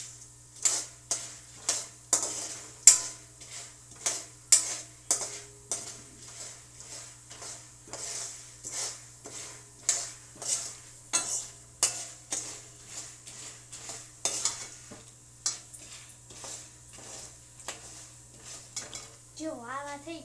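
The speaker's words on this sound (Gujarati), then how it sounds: "હવે આપણે પાછું હલાવશું" Popcorn kernels coated with turmeric are stirred in a pan, a spoon scraping and tapping in a regular rhythm of sharp metallic strokes over a faint low hum.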